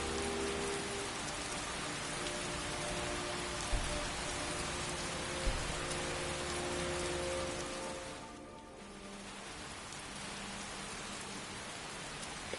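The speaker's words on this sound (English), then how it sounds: "The rain is so frickin' loud." Heavy rain pours in the Skyrim video game, a loud, steady hiss of drops on the ground that runs without a break, with a couple of soft thuds and a brief dip partway through.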